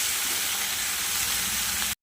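Green chillies and onions fry in a pan, giving a dense, steady sizzle and hiss that holds evenly close up and then cuts off abruptly.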